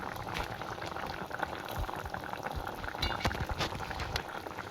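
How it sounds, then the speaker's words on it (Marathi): A pot of okra and prawn curry bubbles at a steady boil, with dense popping and gurgling bursts close by and no voices. "उकळा काढून घेऊया"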